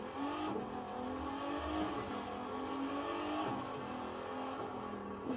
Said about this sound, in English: here's what it's like to be inside of a Ford GT going through the redwood forests